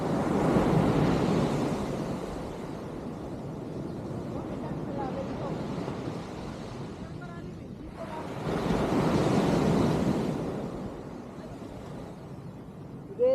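Ocean waves break in shallow water, with two long swells of surging, hissing surf and steady wind rumble on the microphone, heard from close by at sea level.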